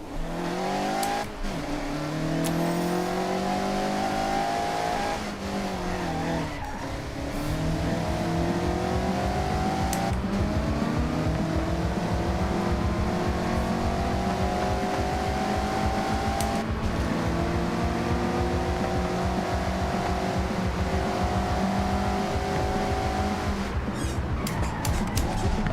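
Mazda MX-5 sliding sideways through corners in the Forza Horizon racing game, a continuous engine drone rising and falling in pitch with revs and gear changes, with tire squeal mixed in throughout.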